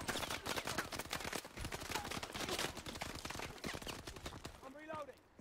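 Gunfire in Call of Duty: Advanced Warfare crackles as dense, continuous automatic bursts under excited voices talking over the fight, steady and busy throughout.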